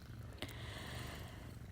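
A cat purrs close by, a soft steady low rumble that runs throughout with a brief click near the start.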